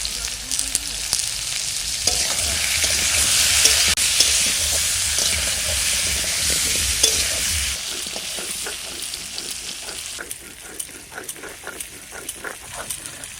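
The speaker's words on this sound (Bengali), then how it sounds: "আলু ভাজা হয়ে গেছে, তুলে নিচ্ছি" New potatoes sizzle and crackle in hot oil in a home kitchen, a steady frying hiss with stirring scrapes, later giving way to sharper, more scattered spattering.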